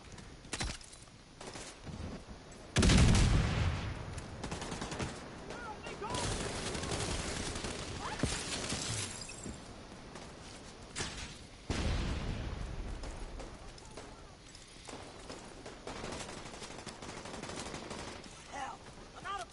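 Gunfire and explosions in the shooter video game The Division 2, with bursts of rapid automatic fire and heavy booms over ongoing loud combat noise, with voices talking.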